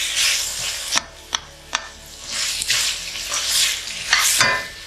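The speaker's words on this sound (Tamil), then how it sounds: "நல்ல தக்காளி வச்சு நல்லா வதக்குங்க." Tomatoes sauté for a roadside parotta salna, a loud close sizzle swelling and fading as a spatula stirs, with sharp metallic clacks against the pan.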